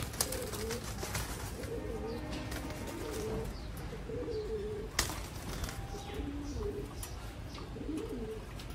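Pigeons cooing in repeated low, rolling calls, several birds close by, with a sharp clack midway and steady background noise.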